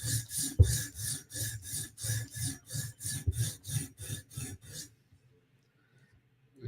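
A blade's bevels are worked over a sharpening stone in about fifteen even back-and-forth rasping strokes, close and rhythmic, before the scraping stops and near silence follows.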